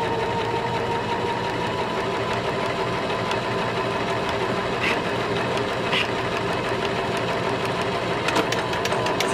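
A Janome HD3000 sewing machine stitches a buttonhole with a continuous, fast, even mechanical whir and needle rattle, steady and close throughout with no pauses.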